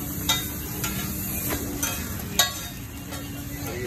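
Butter sizzles on a hot street-stall griddle while chowmein filling for an egg roll cooks, a close, steady frying hiss broken by sharp metallic clinks and scrapes of a spatula.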